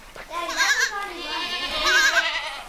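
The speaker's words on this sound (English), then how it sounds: "There's a big baby goat. goats everywhere." Goats on a farm, young kids among them, bleat in two drawn-out, wavering calls close by, with a short pause between them.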